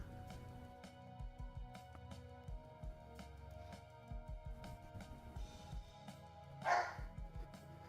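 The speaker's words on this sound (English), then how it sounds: "This guy needs to stop freaking barking." A dog barks repeatedly in the background beneath steady electronic music, the barks moderately distant and irregularly spaced.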